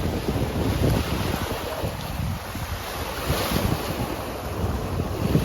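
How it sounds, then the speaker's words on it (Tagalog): Strong wind buffets the microphone while rough, suddenly rising water churns and splashes nearby while fishing, a continuous loud roar with no voices. "Malakas ang tubig, malakas ang hangin."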